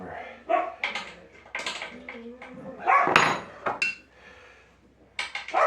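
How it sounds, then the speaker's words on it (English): Dogs bark in short, scattered bursts close by, mixed with whines and a few clanks, all at a moderate level. "sorry about the dogs"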